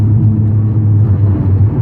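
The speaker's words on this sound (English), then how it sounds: "Sorry for the road noise here" Steady low road rumble inside a moving VW mk6 GTI, a constant loud drone of tyres and engine with no other sounds on top.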